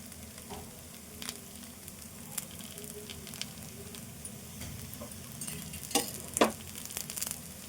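Jaggery and rice flour dosa frying in oil on a pan, a soft continuous sizzle with occasional light ticks and a couple of louder utensil knocks near the end, close by, no voices.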